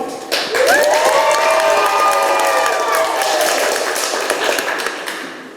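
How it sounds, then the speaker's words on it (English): Loud theatre audience applause and cheering in a musical's courtroom scene, with sustained whoops and shouts rising over dense clapping that swells quickly and holds steady before easing slightly. "I'd like everyone who believes the defendant is innocent to applaud as loudly as they can."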